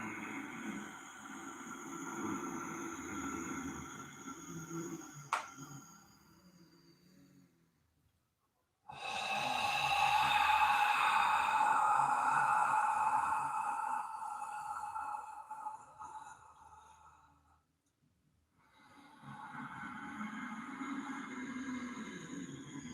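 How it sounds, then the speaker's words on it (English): Deep, audible breathing through a constricted throat during a yoga breathing exercise, two long rasping breaths with a short silent pause between them, close and fairly quiet with no speech. "Create a constriction at the back of the throat, creating an audible breath."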